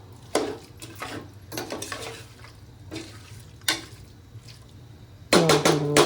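Chicken pulao being stirred in a pot: scattered scraping and clinking strokes of a spoon against the metal over a low steady hum, ending in a louder burst of clattering near the end.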